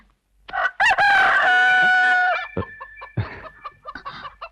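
A rooster crows close by in one long, drawn-out call, followed by a few shorter clucking sounds.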